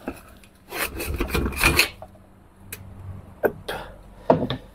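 A metal rear axle scrapes and rasps as it is slid out of the rear wheel of a 125 TDR motorcycle, in a few short grinding bursts with light clinks between.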